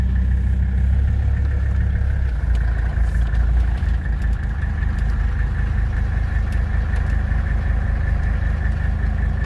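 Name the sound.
diesel Rabbit pickup truck engine idling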